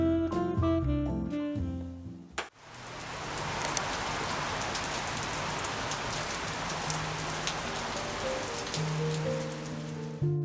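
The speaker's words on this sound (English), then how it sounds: "When I woke up to the sound of rain" Steady rain falls outdoors as a dense, even patter that fills about eight seconds, entering after a short stretch of music that returns faintly toward the end.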